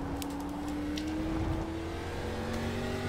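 Race car engine held on throttle in iRacing during an ARCA race at Twin Ring Motegi West, a loud, steady climbing engine drone with rising pitch and no voices.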